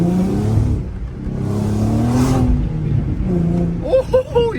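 A Nissan 370Z with resonated test pipes revs up and holds a rising, droning exhaust note close by, easing off before a voice speaks over the tail end.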